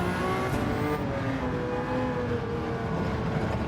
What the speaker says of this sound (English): I think this is a supercharged V12, which isn't how it raced